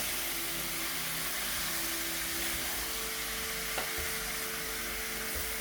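Spicy potatoes with coriander are stirred in a hot pan, a continuous broad sizzle with scraping movement throughout, steady and close, no talk.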